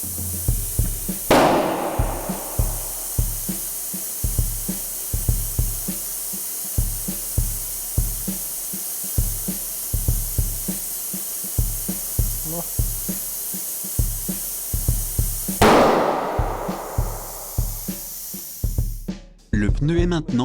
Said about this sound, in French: Les deux talons du pneu sont passés au-dessus des bosses, on a entendu le bang.